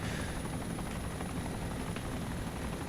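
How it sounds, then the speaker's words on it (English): Helicopter in the DayZ Origins mod video game, a steady low rotor and engine drone held at constant level throughout, fairly faint and without any talk over it. "I park my helicopters in here."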